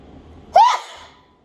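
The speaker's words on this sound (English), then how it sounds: "hold on, I gotta sneeze." A single sharp sneeze, close and loud, preceded by a quick intake of breath.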